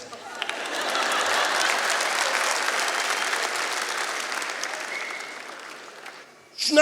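Steady, dense applause from a concert audience fills the hall and holds for several seconds, then fades out.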